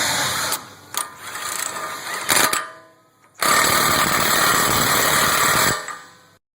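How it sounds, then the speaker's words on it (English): An impact wrench or power tool drives a 36mm axle nut onto the front wheel bearing hub, making loud sustained rattling bursts, with a short burst, a pause, then a longer run that stops abruptly. "Then you want to tighten down your 36mm axle nut."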